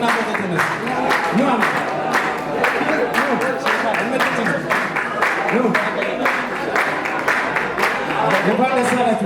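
Sustained clapping from the congregation at an apostolic wedding, many hands beating in a loose, rhythmic patter for several seconds, with voices talking and calling over it.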